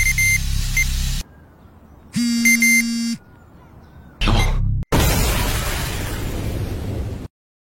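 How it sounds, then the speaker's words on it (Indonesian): A loud bomb blast erupts into a long roaring rumble, preceded by abrupt electronic beeps and bursts, then cuts off to silence. "bom yang meledak adalah bom di rumah Letnan Kim"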